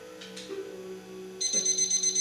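A timer alarm goes off, starting as a steady electronic tone that turns into a brighter beeping pattern partway through, fairly clear and alone with no talking.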